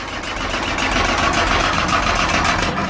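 A Volkswagen Vanagon engine is cranked by its starter with the ignition coil disconnected, a steady, loud, close churning drone that holds without a break for about three seconds.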